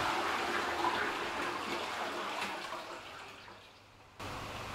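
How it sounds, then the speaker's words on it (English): A newly installed toilet flushes, a loud rushing surge of water that gradually fades into a quieter refill trickle, close by with no talking. "And then we'll check the flush."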